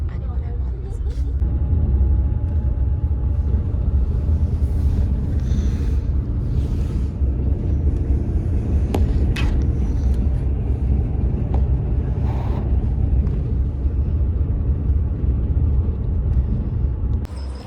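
Steady low engine rumble and road noise from a bus moving along on a solo trip, continuous throughout with faint sporadic speech and small clatters over the drone.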